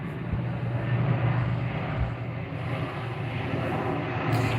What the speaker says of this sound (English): And it's a big black plane.